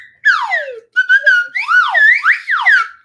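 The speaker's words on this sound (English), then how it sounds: "she heard the whistle" A shrill whistle sounds in several loud, close bursts, its pitch swooping up and down between short pauses.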